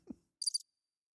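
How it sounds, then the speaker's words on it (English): A short cricket chirp sound effect plays as a quick burst of high trills, framed by soft isolated knocks before and after, quiet and with no other noise. "Where's the cricket sound?"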